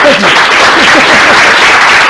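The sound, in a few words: audience applause at a research seminar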